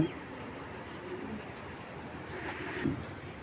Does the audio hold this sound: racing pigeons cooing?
yes